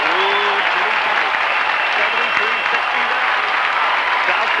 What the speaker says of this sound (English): All that applause, by the way, was for Danny Olsen.